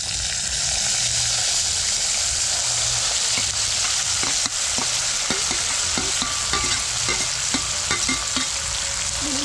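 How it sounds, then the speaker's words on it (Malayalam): Onions and shallots sauté in a pan over a wood-fire stove, giving a steady loud sizzle broken by repeated scraping and stirring clicks from a utensil. "ഇനി നന്നായിട്ടൊന്ന് വഴറ്റിയെടുക്കും."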